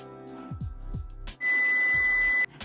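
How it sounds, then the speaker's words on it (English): A phone's notification cuts in as a steady, loud electronic tone lasting about a second, abruptly interrupting a home recording, preceded by a few soft short blips. "As usual, phone interruption."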